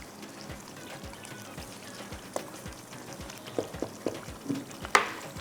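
Chicken hara masala frying in a pan is stirred, soft sizzling underneath repeated dull scrapes and knocks of the spoon that grow louder toward the end.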